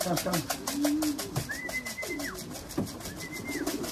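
Pigeon sounds during a diving-pigeon session, with soft coos and faint whistly tones close by under a voice calling to the birds.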